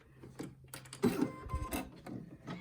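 Brother NQ1700e embroidery machine sewing decorative stitching around a rivet key fob, heard as a short, quiet mechanical whir with light clicks, close by and without talk.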